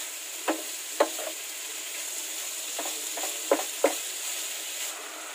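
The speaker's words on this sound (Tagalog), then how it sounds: "mix it well" Pork with pepper is stirred in a pan over a soft continuous sizzle, with about six sharp utensil scrapes and knocks spaced irregularly, no talking.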